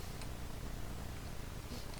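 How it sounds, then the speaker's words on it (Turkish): A domestic cat purrs close by with a soft, low, continuous rumble, quiet and steady, with no talking. "Bu benim kedim gel."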